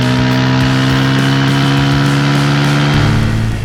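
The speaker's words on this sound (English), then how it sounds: "I really like the deep bassy exhaust note from this underbelly exhaust" A Bajaj Pulsar N160 160cc motorcycle with an underbelly exhaust gives a deep, bassy, steady engine note, loud and close, holding a constant idle-like drone with a slight pitch shift near the end.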